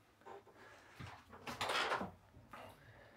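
A bathroom drawer or medicine cabinet in a 2022 Montana High Country 385BR fifth-wheel RV is opened and shut, giving faint close sliding and knocking sounds with a brief louder rattle in the middle.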